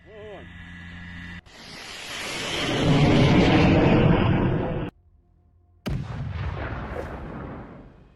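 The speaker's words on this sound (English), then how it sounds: "HIMARS strikes, finishing 3 BMPs at once." HIMARS rocket strikes hit Russian BMP armored vehicles in a column, heard as a sustained roaring blast that builds and falls, a brief gap, then another sharp impact and rumbling aftermath, all without talk.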